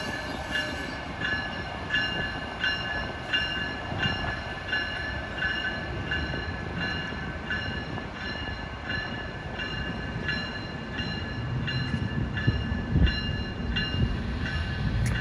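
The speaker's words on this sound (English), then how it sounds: "Oh, look at the train." A train passes through downtown Providence, Rhode Island, on an Amtrak line, with a steady rumble and repeated rhythmic rail clatter heard from a nearby city street, holding constant for the whole stretch.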